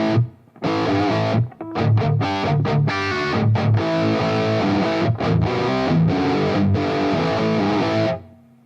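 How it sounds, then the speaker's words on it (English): Distorted electric guitar played through an Amped reverb pedal set very slightly, strummed chords and riffs in short bursts with brief gaps, loud and close, with only a faint touch of reverb tail. "you can kind of do that with the Reverb Pedal. Just have it on very slightly."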